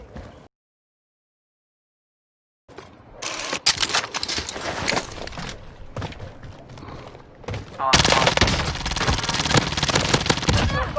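Gunfire in the video game Call of Duty Warzone, loud bursts of automatic fire and shots after a brief silence, with a voice speaking over the dense firing.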